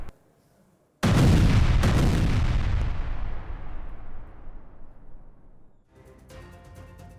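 A heavy airstrike blast on Hezbollah positions in Lebanon erupts with a loud boom, then a long rumbling roar that slowly decays over several seconds before fading into faint background noise.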